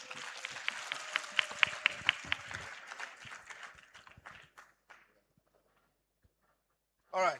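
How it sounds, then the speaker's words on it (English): An audience at a youth event applauds with dense clapping and a few cheers, the sound thinning out and fading to near silence before a voice comes in at the end. "Can we give him a round of applause?"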